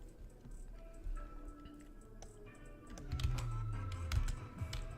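Fingers tapping on a computer keyboard indoors, a quiet scatter of clicks that turns into a faster, denser burst of keystrokes toward the end, with no speech.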